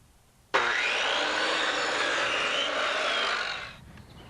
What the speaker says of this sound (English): The dowels are too big. That's all right. We'll just cut it off right here.